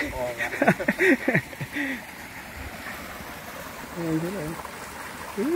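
Clear stream water runs along a dirt bike trail, a steady soft rushing and trickling that continues throughout, with people talking over it at the start and again near the end.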